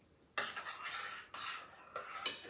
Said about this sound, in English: Kind of give that a stir.